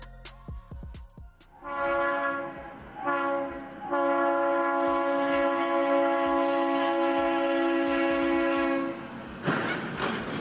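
A loud, sustained train horn blares over the rumble and rhythmic clatter of a speeding train passing at a crossing, with a brief opening blast before the long chord.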